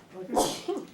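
A single close sneeze in a quiet meeting room, a sharp breathy burst with a short intake before it.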